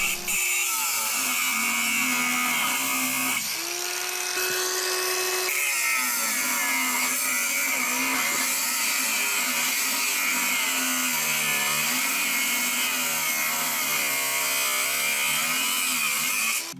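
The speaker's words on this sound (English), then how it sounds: "I'm going to have to resort to cutting the bolts off" Power tool cutting through stuck bolts on a 43-year-old British garden tractor, a loud, steady, high whining grind that runs continuously with slight pitch shifts as it bites into the metal.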